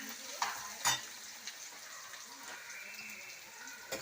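Onions fry in oil for a Nellore-style fish curry, a soft continuous sizzle with occasional utensil knocks and stirring scrapes, fairly quiet and close, while a voice speaks faintly over it.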